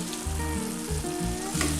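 Fried chicken being stirred into a sesame sauce in a hot pan, with steady close sizzling and frying under faint scraping, with no talk.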